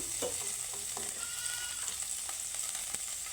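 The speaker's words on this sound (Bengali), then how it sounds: "তো পনিরটা আমি একটু হালকা লাল করেই ভেজে নিচ্ছি তেলের মধ্যে" Paneer shallow-frying in oil in a pan, giving a constant bright sizzle, close up, with a few light taps and scrapes of a utensil stirring it.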